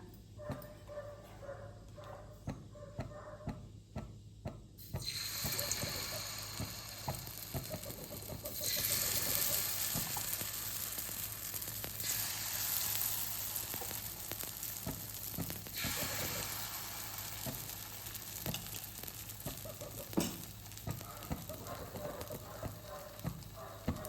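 Oil heating and frying in a pan on a home stove, a steady broadband sizzle that swells louder after the first few seconds and holds with small pops and crackles throughout, no talking.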